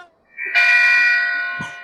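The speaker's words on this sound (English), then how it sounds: "Ring the bell!" A bell rings out during a Macbeth theater rehearsal, a single sustained clang that swells and holds for over a second before a brief thump.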